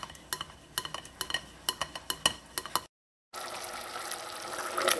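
Milk mixture for Trinidadian coconut barfi is poured through a strainer: a few light clinks and taps first, then a short pause and a steady, close liquid rush that grows slightly louder.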